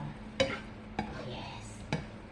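A spoon stirs milk into a mixture, giving three distinct taps against the container spaced about half a second to a second apart, with soft scraping between, close and quiet.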